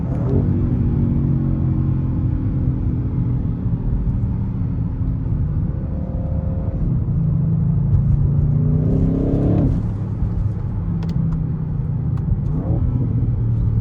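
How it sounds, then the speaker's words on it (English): An Audi RS6 Avant engine revs up and down repeatedly, rising and falling in pitch with a rumbling, throaty tone and backfire, close and loud. "you get quite a bit of actual backfire, which sounds really good"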